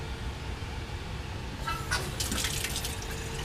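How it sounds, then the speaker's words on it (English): Sodium sulfate flushed down a lab sink with running water: a faint steady background, then from the midpoint a splashing, trickling stream of tap water, close and moderately quiet. "I'm just going to go ahead and flush that down the sink."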